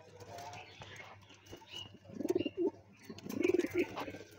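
Domestic pigeons kept at a home give two close bursts of throaty, rhythmic cooing after a quiet stretch of faint background sound.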